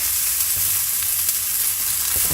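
Garlic, onions and vegetables roast in a pan under a steady, close hiss of frying oil, with a few faint taps and pops scattered through, and no voices.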